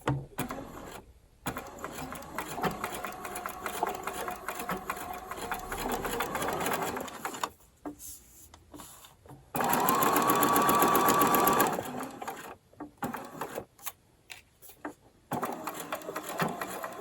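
Sewing machine stitching a raglan thumbhole cuff, with short bursts of quick rhythmic whirring broken by pauses and one longer, louder run, close and clear.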